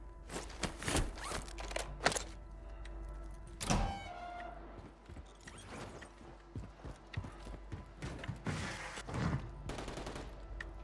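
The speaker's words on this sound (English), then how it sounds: "we got shooting. Where did that sound come from?" Gunfire in a Warzone battle royale match, heard as sharp irregular shots and bursts among clattering gear and movement sounds, fairly close and loud, with no talking.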